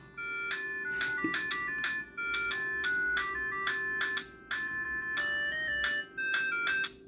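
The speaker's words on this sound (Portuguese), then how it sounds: "Esses são os toques baixados, tá?" A downloaded polyphonic ringtone on a Motorola T720 mobile phone plays a tinkling electronic tune in short phrases separated by brief gaps, thin and tinny through a small speaker.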